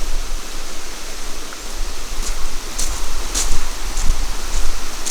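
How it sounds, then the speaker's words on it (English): Floodwater rushes steadily down a hillside as it is diverted, a broad continuous wash that stays close and fairly loud throughout, with a few brief splashes standing out. "You see how the water's getting diverted here."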